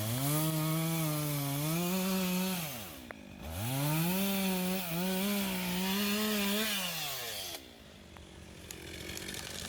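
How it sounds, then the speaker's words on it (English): A chainsaw engine runs loud and close, its pitch rising and falling as the throttle is worked, with a brief drop near the middle and idling at the end. "So speaking of operating a chainsaw,"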